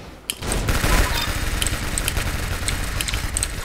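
Sustained rapid gunfire from a shooter video game, Arsenal, fills the whole span as a dense, loud burst of overlapping shots after a brief quiet start, with sharp clicks and tones scattered on top.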